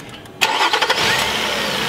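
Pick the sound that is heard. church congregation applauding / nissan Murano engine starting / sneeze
nissan Murano engine starting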